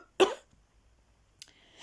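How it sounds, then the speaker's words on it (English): A single short, sharp cough stands out against near silence. A faint breath or throat sound follows about a second later. "I'm just going to cough and think about it."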